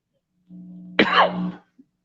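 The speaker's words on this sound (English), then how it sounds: "Smoker's cough." A low hum leads into a single harsh, rasping cough, close and loud, that trails off quickly in an otherwise silent space.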